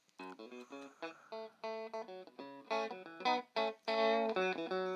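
An electric guitar plays through an ADAU1701-based distortion pedal: short clean plucked notes and chords alternate with thicker, sustained distorted strums, close and fairly loud, with no talking.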